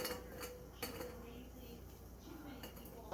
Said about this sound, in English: We got our funnel and begin filling these jars